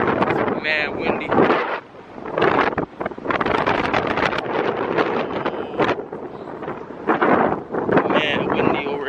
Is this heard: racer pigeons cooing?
no